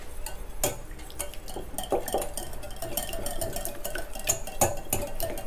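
Oil is lightly stirred into plum cake batter in a bowl. A utensil gives quiet, irregular clinks and taps against the bowl, with soft scraping underneath, and there is no talking.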